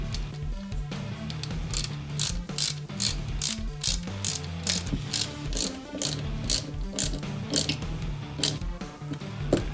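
A screwdriver drives a self-tapping screw into a plastic part of a 1/8-scale Nissan Skyline GT-R model from Fast & Furious, giving close, rhythmic ratcheting clicks in repeated bursts with no talking.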